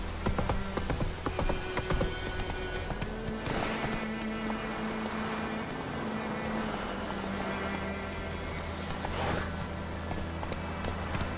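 Roach the horse in The Witcher 3 clip-clops along with a rhythmic hoof beat over a steady low droning background, with short bursts of heavier movement and game ambience.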